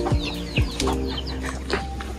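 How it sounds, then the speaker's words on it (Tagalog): A rooster with red neck feathers gives short, sharp clucks and calls, close by, while other bird chirps and faint outdoor noise sound in the background. "Yan yung cobra na manok."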